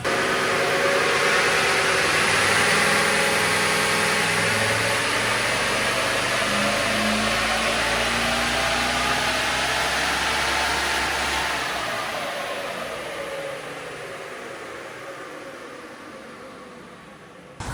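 A stock Toyota 200 series engine runs hard on a dyno, a loud, sustained roar that holds steady before winding down and fading toward the end.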